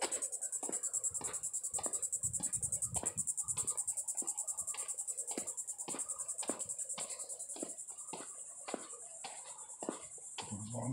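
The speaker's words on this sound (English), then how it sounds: "Some crickets." Crickets chirp in a continuous high shimmer along a shaded nature trail at Juno Dunes Natural Area, with regular clicking pulses and faint rustling underneath.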